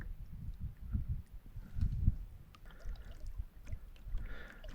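A kayak is paddled on a lake, with soft, rhythmic water swishes and low splashes from the strokes, close and fairly quiet, and no voices.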